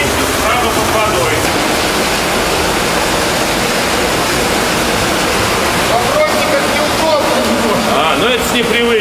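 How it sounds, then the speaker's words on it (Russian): Water pouring into a stilling basin in an underground Moscow sewer collector, a loud, steady roaring rush that echoes in the tunnel, with someone talking over it. "предусмотрена водобойная яма, технологическое углубление, и балласт воды здесь гасит кинетическую энергию приходящего потока"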